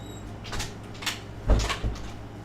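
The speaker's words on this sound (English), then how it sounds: "I gotta shut this door" A door is pushed shut in a room with a dog, giving a few soft knocks and then a firmer thud and rattle as it closes.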